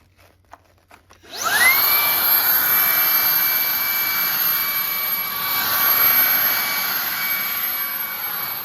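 A RYOBI 18V ONE+ cordless stick vacuum switches on after a few faint clicks, rising into a steady high-pitched whine with a loud broadband rush that runs without pause to the end, no voices over it.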